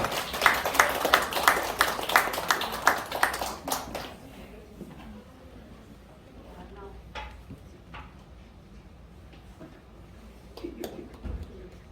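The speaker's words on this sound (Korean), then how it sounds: "여러분 따뜻한 박수로 맞아주시기 바랍니다" Audience at a year-end school culture festival claps warmly for several seconds, a dense run of hand claps that fades into quiet room noise with a few scattered claps afterward.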